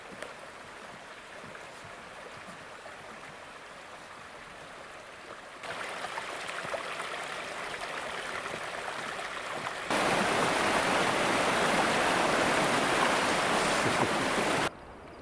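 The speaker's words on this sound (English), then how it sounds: "This is the House River." Steady rushing of the House River near Glacier Lake in Banff National Park, a continuous broadband flow that swells louder in stages as it comes nearer, with no voices.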